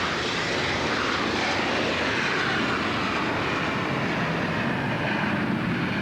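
Jet aircraft in diamond formation pass over a 1993 naval air show at Point Mugu, a loud continuous broadband roar that holds steady throughout.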